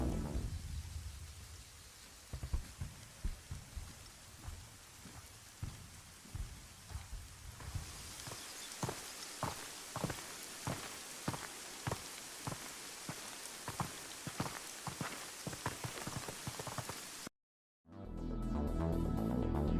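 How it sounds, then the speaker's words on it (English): Footsteps in the Arma 3 video game with a sound mod thud across different ground materials, a steady run of distinct close steps over a soft outdoor ambience before an abrupt cut. "Let's have a quick side-by-side of the footstep sounds with and without the mod."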